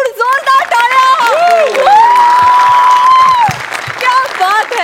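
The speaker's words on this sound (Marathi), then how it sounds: "जोरदार टाळ्या." A studio audience on a Marathi TV comedy show claps and cheers in a loud, sustained burst, with a host's voice and musical tones rising over the crowd.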